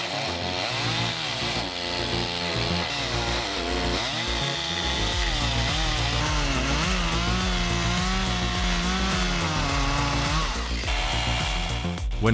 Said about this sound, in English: A chainsaw can cut the tree, but cannot control the direction in which it will fall.